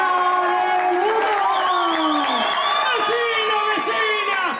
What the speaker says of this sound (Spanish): Salud, fuertísimos aplausos, recibimos a Murga